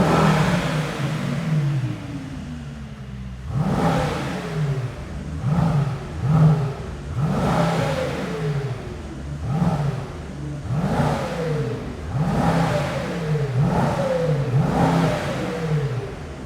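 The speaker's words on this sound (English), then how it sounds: "we will be listening to the sound of the AMG GT63 S E-Performance by LARTE Design" A Mercedes-AMG GT63 S E-Performance with a LARTE Design exhaust revs repeatedly and loudly close by, each burst of throttle rising and falling in a steady series of roaring blips, without pops or bangs.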